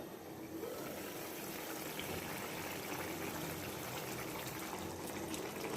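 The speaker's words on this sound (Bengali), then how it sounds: "দেখুন পটলটা ফুটতে শুরু করেছে" A pot of pointed gourd (potol) curry simmers at a gentle boil, giving a faint, steady bubbling hiss that continues evenly throughout.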